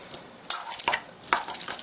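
A handheld potato masher pushes through soft food in a bowl in a few short, wet squishing strokes with light scraping, close and fairly quiet, no voices.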